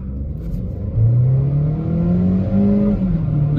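A Skoda Slavia 1.0 TSI and a Volkswagen Vento launch off the line at a drag race start, engines revving hard with rising pitch through gear changes, loud and close, no voices.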